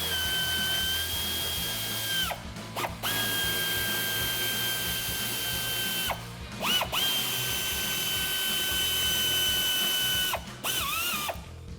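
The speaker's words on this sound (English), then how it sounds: "we're gonna grab the ratchet 8mm socket. There's 5 bolts we're going to remove in the wheel well right here." A ratchet fitted with an 8mm socket works bolts out of the wheel well liner on a 2019+ RAM 1500. Steady bursts of close, loud mechanical clicking run for several seconds at a time, broken by short pauses.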